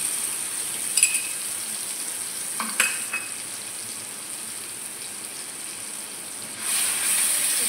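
Ginger, garlic, onion and tomato paste frying in a pan give a steady soft sizzle and hiss, with a few clinks of a utensil against the pan and a louder surge of sizzling near the end.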